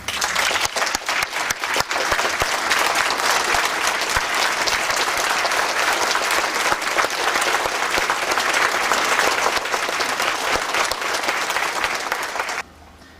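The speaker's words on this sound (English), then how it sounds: "Those supporters can stand or clap right now." Supporters clap at a Howard County planning board meeting, a loud, dense, sustained round of applause from a crowd in a hall lasting over twelve seconds, then cutting off abruptly.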